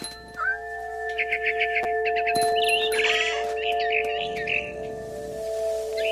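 Game bird in What Remains of Edith Finch giving repeated short chirps and tweets over steady ambient tones, with a brief harsher squawk midway, moderately close.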